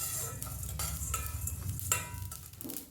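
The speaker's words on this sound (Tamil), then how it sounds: "மிளகு, சீரகம், வெந்தயம் 3ஐயும் சேர்த்துட்டு நல்ல படபடன்னு பொரியிற மாதிரி வறுத்து எடுத்துக்கலாங்க" Black pepper, cumin and fenugreek dry-roast in a pan for sambar powder, giving a close, steady crackle and scraping stir with a few sharper pops.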